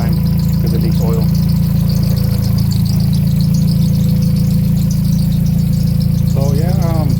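A Honda F20B engine fitted with an H2B kit idles loudly and steadily up close, its even mechanical hum continuing while a person talks briefly.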